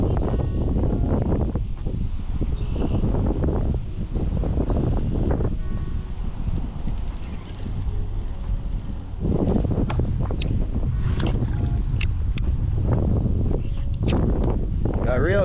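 Strong wind buffeting a microphone while kayaking on open water during a fishing outing, a loud, constant rumbling roar with gusts that swell and ease throughout.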